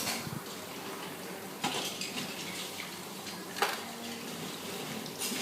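About five kilos of live blue swimming crabs being rinsed of seawater before steaming, with sloshing water and a few sharp clatters of shells against a container over a soft steady background.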